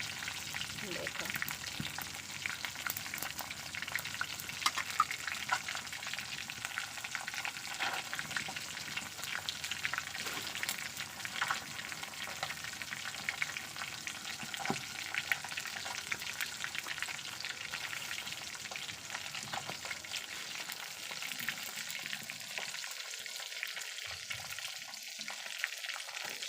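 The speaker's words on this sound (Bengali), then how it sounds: "আস্তে আস্তে করে জাল দিয়ে সিদ্ধ করে ভেজে নিতে হবে" A large fish head fries slowly in a pan of oil over low heat, giving a steady, continuous sizzle and crackle that stays close and fairly loud throughout, easing slightly near the end, with no talk.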